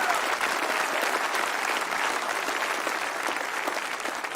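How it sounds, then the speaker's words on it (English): Steady audience applause fills a graduation ceremony at a California campus, a continuous wash of many hands clapping at even loudness, slightly distant, with no speech over it. "Can we please give them a great big round of applause?"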